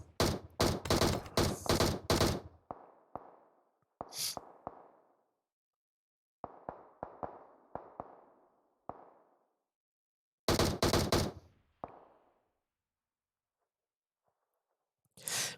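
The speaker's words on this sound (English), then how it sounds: "you can hear Angela with the DP trying just to let Poppy know that she's there" A DP machine gun in an online shooter fires repeated bursts of rapid automatic shots, some loud and close and others fainter, separated by gaps of silence, with no talking.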